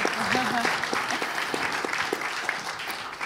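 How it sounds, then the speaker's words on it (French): Audience applause at a French defense round-table, a soft continuous patter of many hands from a seated crowd, with a voice speaking briefly near the start over the clapping. "Je pense qu'on peut applaudir Estelle Quillet pour ce témoignage."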